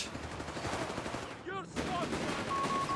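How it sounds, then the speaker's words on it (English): Sten gun fire in Company of Heroes 3 close-quarters combat, bursts of rapid automatic shots under game noise with a brief high whistling sweep in the middle, moderately faint. "getting up some close quarters action with the Sten guns"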